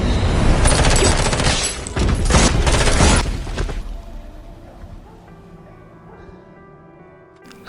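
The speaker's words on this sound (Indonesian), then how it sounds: "selanjutnya baku tembak pun terjadi" A film gunfight erupts in dense, rapid bursts of gunfire for several seconds, loud and close, then fades into a quieter low rumble and hum.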